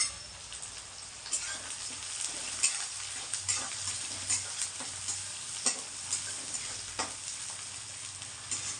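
Onion frying in oil with fenugreek seeds for an Andhra fish curry, a soft steady sizzle broken by repeated scraping stirs of a spoon against the pan at an uneven rhythm.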